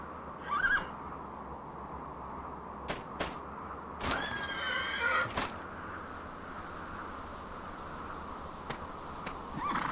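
A horse in the Dragon Quest VIII game gives a whinnying neigh, with a couple of sharp clicks before it and faint snorts at the start and end, over a quiet ambient background.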